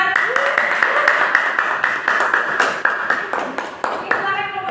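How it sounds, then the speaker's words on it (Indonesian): Students clap in a classroom, a burst of scattered, fairly loud handclaps lasting several seconds with voices mixed in. "beri tepuk tangan"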